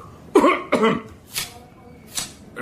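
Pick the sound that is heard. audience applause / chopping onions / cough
cough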